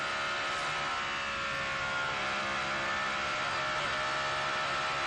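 WEC race car lapping the Spa circuit onboard after the La Source hairpin, heading down toward Eau Rouge, its engine a steady sustained loud drone with no talk over it.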